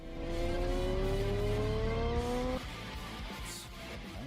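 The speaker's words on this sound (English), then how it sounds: "Is that a custom exhaust that you have on the back of it?" A motorcycle with a custom exhaust revs hard, its engine note climbing in a steady rising whine before dropping abruptly to a lower, rougher idle-like rumble.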